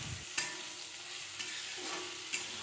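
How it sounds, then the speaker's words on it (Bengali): Bottle gourd stalks fry with a spoonful of sugar in a pan, a constant close sizzle with three sharp stirring scrapes spaced about a second apart. "লাউয়ের ডাঁটাগুলি ভাজতে ভাজতে মাঝে 1 চামচ চিনি দিয়ে দেব।"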